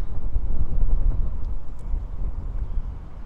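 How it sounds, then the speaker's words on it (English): Strong wind buffets a drone's microphone outside Anfield stadium during the Anfield Road Stand expansion works: a heavy low rumbling roar that surges and eases continuously with no other clear sounds. "Just gone really windy"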